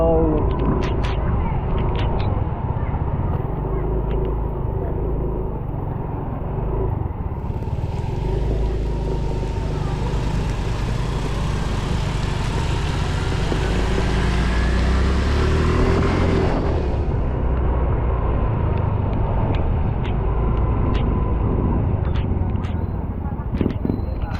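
A motorcycle engine runs steadily during a ride, its continuous low drone mixed with road and wind noise, while a person talks over it almost throughout.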